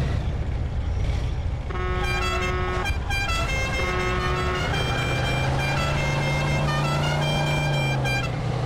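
Car horns honking in a city driving video game, several long blaring toots layered over engine noise and traffic, loud and continuous.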